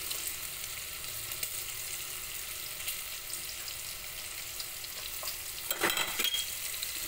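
Ginger and onion sautéing in hot oil for mongo, a low steady sizzle with faint stirring, ending in a few louder clinks and scrapes near the end.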